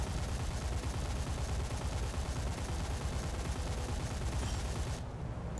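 Six 23 mm aircraft cannons in War Thunder fire in a dense, continuous roaring barrage, loud and unbroken for several seconds before cutting off abruptly near the end.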